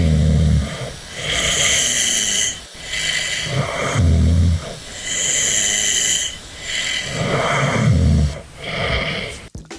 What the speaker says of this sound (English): it feels weird listening to me snore